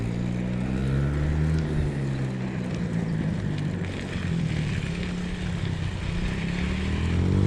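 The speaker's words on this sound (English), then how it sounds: "them lads are out on the four-wheeler" A four-wheeler ATV drones steadily nearby outdoors, its engine note rising and falling in pitch as it rides around, loud and continuous with no talking.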